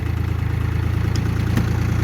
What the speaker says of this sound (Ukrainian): Все, трактор тронувся з місця, поїхали.